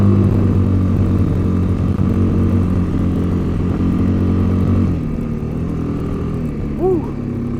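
A Kawasaki KLX250 dirt bike engine drones steadily under load while climbing a hill, its note loud and close, then dropping in pitch and easing off partway through, with a brief whoop of a rising sound near the end.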